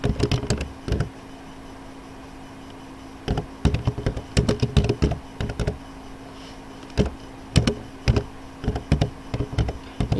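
Someone types on a computer keyboard in short bursts of quick clicks separated by quiet pauses, close and clear against a faint steady hum.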